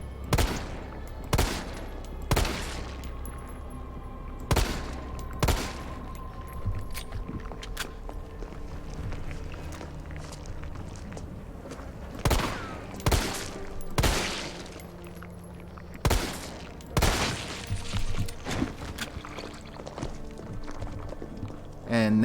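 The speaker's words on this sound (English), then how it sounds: "You have to shoot them till that eye opens up." Gunfire from Resident Evil 3 Remake rings out in sharp, loud bursts at irregular intervals, single shots and short volleys, with footsteps and quieter game ambience between them.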